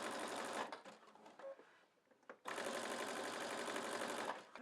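A sewing machine back-tacks over the splice of a rope coil basket, running in two loud close bursts separated by a short pause with faint handling clicks.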